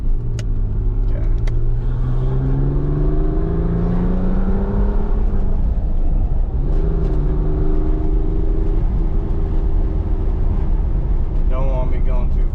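Car engine heard from inside while driving slowly through a residential area, with a rising and falling drone as it accelerates, eases off and revs again, steady road rumble beneath.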